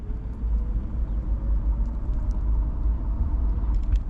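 A Hiboy S2 electric scooter with rear suspension runs at top speed in its regular gear, giving a continuous low rumble of wheels and wind with a faint electric whine and no speech.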